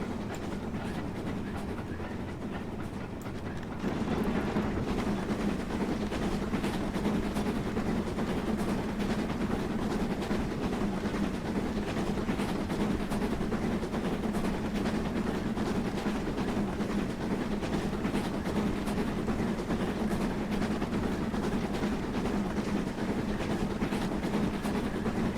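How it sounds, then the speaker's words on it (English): A diesel locomotive in Train Simulator 2020 climbs at absolutely full power on the Furness Line near Hincaster, its engine a steady, loud, sustained drone with rail rumble throughout after a brief quieter opening. "So the loco going up here is absolutely flat out."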